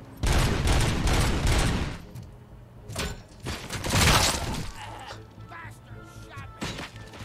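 Bursts of gunfire from the video game RoboCop: Rogue City, loud rapid volleys in clusters separated by short gaps, with a low hum running beneath.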